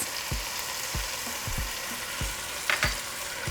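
Shrimp sizzling with spices, garlic and tomatoes in a pan for camarones rancheros, a steady close frying hiss broken by several soft thumps of stirring.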